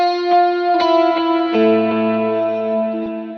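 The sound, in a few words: electric guitar verse riff with effects on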